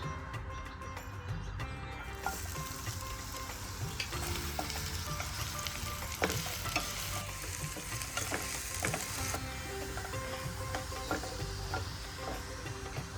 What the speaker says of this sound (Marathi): आता तेल गरम झालं की मी त्यात कांदा छान फ्राय करून घेणार आहे